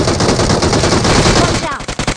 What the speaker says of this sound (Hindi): ये भाई बहुत ज्यादा गोलियां चला रहा